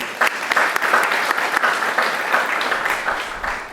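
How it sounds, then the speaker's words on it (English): Audience applause for Dr. Hickey at a project-based learning panel at the i2ED 2013 education event, steady, fairly loud clapping from a crowd with a few sharper individual claps. "A round of applause for Dr. Hickey."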